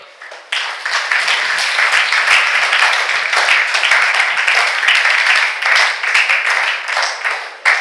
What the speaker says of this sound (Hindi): अपने लिए जोरदार ताली बजाइए एक बार